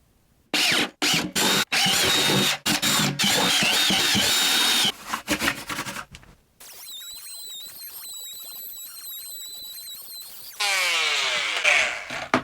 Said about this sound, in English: let's go ahead and cut the hole